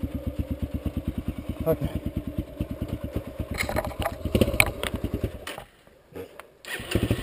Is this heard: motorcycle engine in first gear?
yes